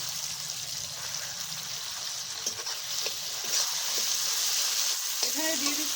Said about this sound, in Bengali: এখন ভাজা মশলাগুলো দিয়ে দিচ্ছি